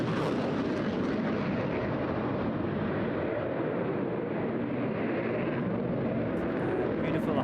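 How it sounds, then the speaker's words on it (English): A Eurofighter Typhoon jet flying a high-G barrel roll at the Eastbourne International Airshow, its engines producing a loud, sustained broadband roar that fills the whole stretch without a break. "Beautiful high G barrel roll."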